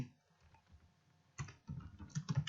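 Fingers type a house address on a computer keyboard in short, quick runs of soft clicks, close and quiet, with brief pauses between bursts.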